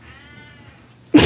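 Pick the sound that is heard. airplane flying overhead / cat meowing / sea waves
cat meowing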